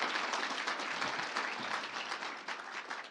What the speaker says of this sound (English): Let's give it a quick clap.